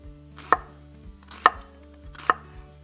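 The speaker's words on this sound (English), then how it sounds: "come right along with it and just cut chunks, like about that big" A knife chops onion into chunks on a cutting board with three crisp, evenly spaced thuds, close and alone, with a low steady hum beneath.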